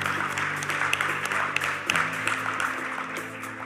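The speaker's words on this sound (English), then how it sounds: "We need another big round of applause to the moderator, Mr. Andrew A. Hall-Henley." Audience applause at the close of an aviation law conference session, a dense steady patter of many hands clapping indoors at moderate loudness, with a few sharper individual claps.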